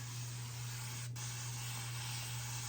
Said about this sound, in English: my first time ever using this spray bottle